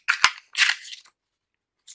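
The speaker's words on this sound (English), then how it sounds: "Okay, so let's shuffle them a little." A deck of playing cards is shuffled close by in two quick papery riffling bursts, the second longer, followed by quiet with a faint rustle at the end.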